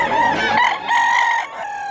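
A gamecock crows once at a rooster market in Mantalungon, Cebu, a loud, close, drawn-out call with a brief break midway, heard alone without voices.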